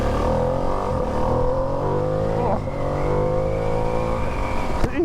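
A 2025 Ducati Panigale V2S revs hard under acceleration, its engine pitch climbing and then dropping with gear changes. The sound is loud and close on the road, with strong wind rush over it.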